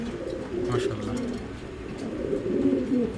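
A pair of DB line pigeons coo softly up close in a repeated low, rolling rhythm, with faint voices in the background.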